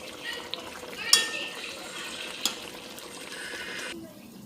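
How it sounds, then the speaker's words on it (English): Brown stew chicken in gravy is stirred in a pot with a spoon, giving soft continuous scraping and bubbling sizzle, with a couple of sharp utensil clinks against the pot before it quiets near the end. "moving it around, making sure it's not sticking to the bottom and stuff"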